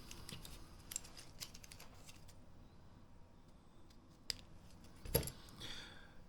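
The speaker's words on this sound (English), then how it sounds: "Cut your tag end off." A fishing line's tag end is snipped off after a knot is tied on a beach fishing rig with a slider sinker clip. Faint small clicks and rustles lead to one crisp, close snip near the end.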